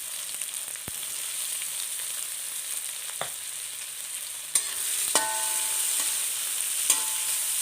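Two chopped onions sizzle in hot coconut oil in a pan, a steady close frying hiss broken by a few sharp clinks and scrapes of stirring, with no talk.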